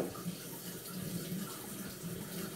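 Tap water runs steadily into a sink during a wet shave with brush and shaving cream, a continuous close splashing stream with no talking over it.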